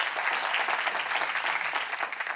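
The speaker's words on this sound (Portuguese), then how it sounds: "Uma grande salva de palmas." A studio audience breaks into a dense, even round of clapping, loud and sustained throughout with no voices over it.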